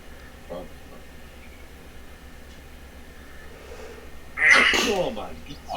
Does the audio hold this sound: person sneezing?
yes